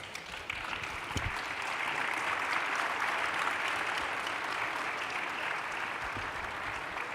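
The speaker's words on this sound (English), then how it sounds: "let's give our ministers from round 1 and round 2 a big round of applause." A crowd at a UN ministerial round table applauds steadily for several seconds, a dense, even wash of clapping from many hands with no talking.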